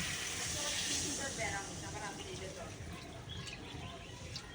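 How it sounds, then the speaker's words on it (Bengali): Water poured into a pan of sizzling spiced vegetables, a loud steady hiss and steam roar that slowly eases, with faint voice in the background. "মশলা দিয়ে সবজি কষানো আমার হয়ে গেছে দেখো জল দিয়ে দেবো"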